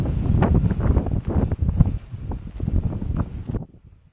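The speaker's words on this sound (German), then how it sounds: "Oh, und es wird stürmisch. Ein Sommersturm angesagt." Strong, gusty summer storm wind buffets the microphone on a mountain hiking trail in the Karwendel, roaring continuously with rustling surges for several seconds before easing off abruptly near the end.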